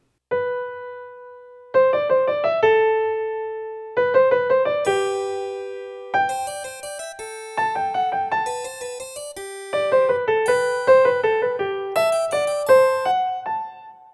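Solo piano playing the two interleaved melodic lines of a canon from Bach's Goldberg Variations, one entering after the other, in a steady, clear contrapuntal texture with distinct note attacks.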